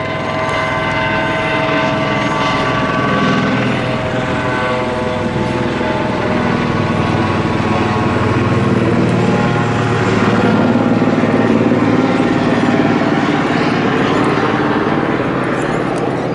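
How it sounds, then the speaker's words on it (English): A joy flight helicopter passes over central Melbourne, its steady rotor and engine drone loud and continuous throughout with layered harmonic whine, no talking. "Joy Flight helicopter."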